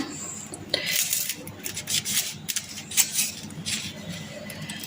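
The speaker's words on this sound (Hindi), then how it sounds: "चारों के किनारे में काट लूँ" A knife slices the crusts off bread slices on a kitchen board, making a series of short scraping, rasping strokes with light clinks, close and clear.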